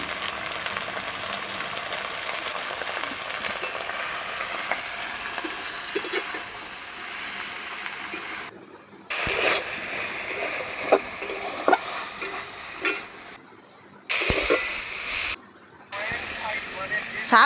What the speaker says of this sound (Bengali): দিয়ে পরিমাণ মতো নুন হলুদ দিয়ে ভালো করে শাকগুলো ভেজে নিতে হবে